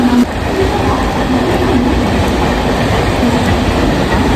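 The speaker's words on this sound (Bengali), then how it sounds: "এই হচ্ছে মেন ট্রেন পানভেল" A Mumbai local train bound for Panvel roars steadily and close by, with a dense rumble of wheels on rails and faint clickety-clack, heard alone without talk.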